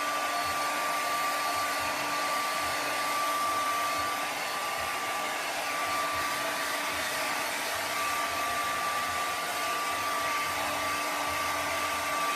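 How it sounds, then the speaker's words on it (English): Hair dryer blowing on an acrylic painting, a steady whooshing airflow with a constant motor whine, running continuously at moderate level with no talk. "Did you guys think you'd be watching a person using a hairdryer on a drawing tonight, on a painting?"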